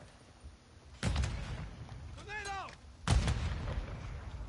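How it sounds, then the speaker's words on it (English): Shooter video game combat: two heavy, booming blasts, an explosion and gunfire, about two seconds apart, with a brief whistling, warbling tone between them. "That was a horrible grenade throw."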